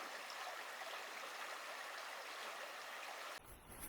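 Taft Creek in winter in Olympic National Park, a rainforest stream, rushes steadily and fairly loudly as broadband water noise with no break until a brief shift near the end.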